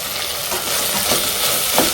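Ginger and garlic pieces frying in oil for mutton gravy, an even close sizzle with a few soft stirring scrapes and clinks of a utensil.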